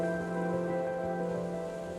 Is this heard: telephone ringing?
no